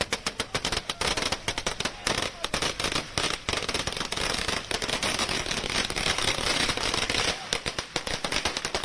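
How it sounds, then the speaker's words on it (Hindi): Firecrackers burst in a dense, relentless string of sharp cracks at a BJP office celebration, loud and close, with rapid popping that barely pauses for nearly nine seconds while faint voices sit underneath. "जहां पर देखिए कैसे पटाखे जलाए जा रहे हैं, आतिशबाजी हो रही है"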